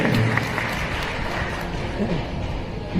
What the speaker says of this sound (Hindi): जरा जोरदार तालियां बोलनी चाहिए मोदी जी के लिए